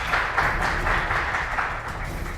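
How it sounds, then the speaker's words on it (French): A studio audience at a cooking competition applauds for Tania, a steady wash of many hands clapping at moderate volume throughout, with no talking over it. "On applaudit Tania"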